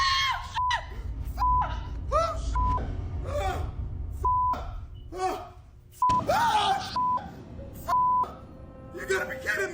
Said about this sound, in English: Jorge hears strange blood-curdling screams